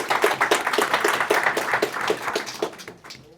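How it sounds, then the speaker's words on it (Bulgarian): A seminar audience at a quantum society launch claps in a burst of distinct, fairly close hand claps. The clapping thins out and fades toward the end. "Моля пак за аплодисменти."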